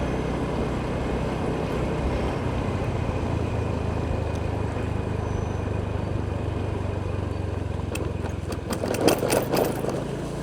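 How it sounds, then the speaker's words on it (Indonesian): A Honda Beat motorbike ridden along a forest trail on Mount Slamet, its engine droning steadily and close, with some rattling and clattering near the end and no talking. "Kita pakai motor beat buat terabasan ini."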